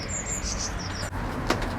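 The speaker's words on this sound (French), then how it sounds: "Il y a des oiseaux." Outdoors on a balcony during lockdown, small birds tweet in quick high chirps, then a sudden brief flutter of wings breaks in near the end, all over a low ambient hum.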